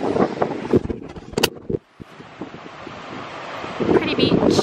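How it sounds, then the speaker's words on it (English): Gusty beach wind buffets the microphone in loud, rough bursts, with a brief lull in the middle and voices speaking over it. "We're at the beach. And it's very windy."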